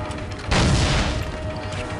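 A shotgun blast in the shooter game Soldier of Fortune, one loud broadband boom about a second in with a long rumbling decay, set over steady game ambience.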